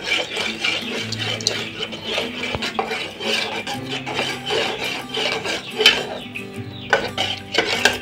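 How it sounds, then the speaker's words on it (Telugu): A spoon stirring rice flour and milk batter in a cooking pot, close scraping and rasping strokes against the pot with repeated clinks, steady and rhythmic, with no talking. "ఇప్పుడు ఇలా తిప్పుకుంటూ వేయాలన్నమాట. వేస్తూ కలుపుతూ ఉండాలి."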